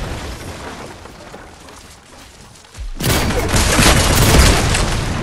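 A loud burst of explosive booms from a rocket launcher in a shooting video game, breaking in suddenly after quieter game noise and rumbling on steadily to the end.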